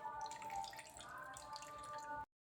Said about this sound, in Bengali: দেখুন মূলো থেকে কি পরিমাণ জল বেরোচ্ছে